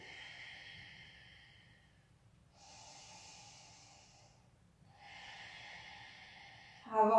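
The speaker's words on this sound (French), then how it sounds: "Donc cherchez à bien respirer par le nez." Slow, deep yoga breaths drawn through the nose in Ujjayi style, a soft hissing inhale and exhale repeating in long, even strokes, close and quiet with a louder rush at the end.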